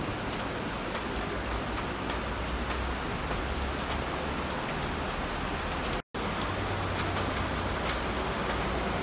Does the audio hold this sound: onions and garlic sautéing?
no